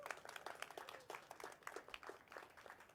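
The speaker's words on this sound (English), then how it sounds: "So please give her a round of applause as well." A small audience claps at an outdoor rail announcement in Virginia, faint, scattered hand claps that patter on for a few seconds, distant and thin.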